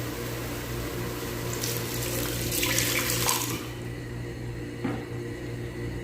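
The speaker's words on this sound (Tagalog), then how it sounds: "dadagdagan natin ng water" Water running from a tap into a pan of cooked pancit canton guisado, a steady close splashing stream with a brighter, louder gush in the middle before it eases off.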